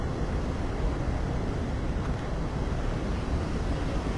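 Floodwater from the 62 opened gates of Ajwa reservoir near Vadodara rushes in a steady, loud, unbroken roar that fills the whole moment, with wind buffeting the microphone and no voices.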